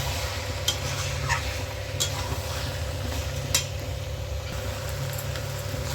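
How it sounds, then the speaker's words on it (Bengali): Chicken coated in hand-rubbed spices, loosened with a splash of water, stir-fries in a pan with a constant even sizzle, punctuated by occasional light metallic taps of the spoon. "দিয়ে আবারও কষিয়ে নিচ্ছি ভালো করে"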